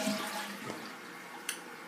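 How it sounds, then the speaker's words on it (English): Toilet flushing nearby, a short rushing swirl of water that quickly fades, ending with a small clunk. "I spit in the toilet and I flushed it down."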